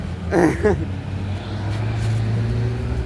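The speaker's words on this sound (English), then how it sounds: "There's a lot of cars here because they just got done with a parade" Many cars roll past on a road just after a parade, a low steady traffic hum and rumble, with a brief voice near the start.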